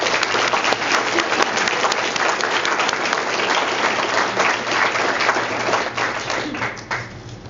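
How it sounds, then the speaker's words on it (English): An audience at a Bernie Sanders campaign meeting in Riverside bursts into dense, sustained applause that holds steady and then begins to thin toward the end. "So give a round of applause for that."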